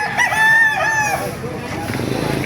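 A rooster crows loudly nearby in one drawn-out call at a market in Baliuag, Philippines, followed by rustling and background noise.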